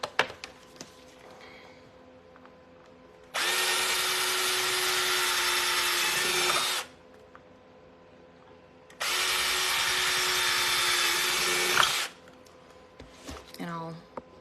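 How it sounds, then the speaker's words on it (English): A power drill bores holes while a glider-style trash can is built, running in two loud, sustained bursts of about three seconds each with quieter gaps and faint voices between them. "Okay, so I think I'm going to drill right here"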